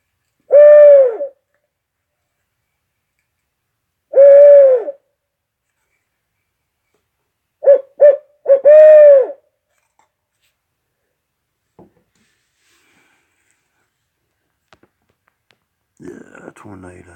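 A person imitates an owl with four hooting calls, two single hoots followed by a quick broken pair, spaced out over long silences and close to the microphone.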